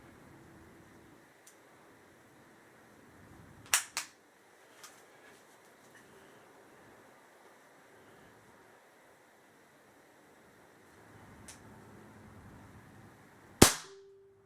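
Sharp, isolated shots from a Crosman 160 CO2 pellet gun fired over a chronograph, with a close double crack early on, a fainter pop later and one loud final shot, set against a quiet background.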